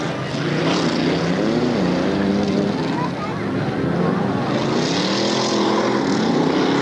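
Class 6 1600 Baja Bug racers churn through a mud bog at Lake Odessa, Michigan, in 1994, their engines rising and falling in long revving sweeps, loud and continuous under an announcer's commentary.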